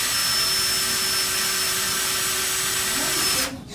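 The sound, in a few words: power drill drilling second mounting hole in patio door frame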